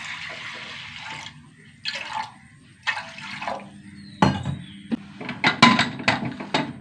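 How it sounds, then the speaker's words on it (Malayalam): Water is poured in several splashing bursts into a pot of toor dal with turmeric and salt, followed by close clanks and knocks of the pot and lid. "വെള്ളം ഒഴിച്ച് കൊടുക്കാം കേട്ടോ"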